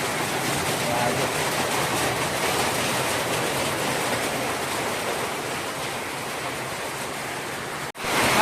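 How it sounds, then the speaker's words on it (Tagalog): Heavy rain pouring near Bomod-ok Falls in Sagada, a loud steady rushing hiss that continues evenly throughout. "Lakas! Lakas ng ulan!"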